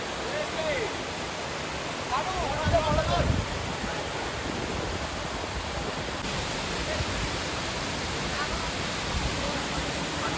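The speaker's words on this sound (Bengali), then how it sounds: "বামনি ফলস নামছে।" Bamni Falls at Ayodhya Pahar in Purulia roars as a steady, broad rush of falling water, close and constant throughout, with faint voices over it.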